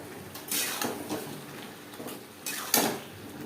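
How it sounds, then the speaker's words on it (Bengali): Potatoes are stirred with spices in a pan for Bengali fish curry, a utensil scraping and clinking against the pan in several close strokes over a soft sizzle, with no talking. "আলু বেশ ভালো করে মিক্সড করে দেবো"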